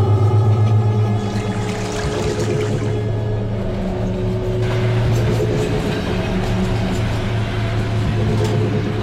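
A train rumbles past continuously, loud and close, with a steady low drone and rattling wagons throughout, no voices.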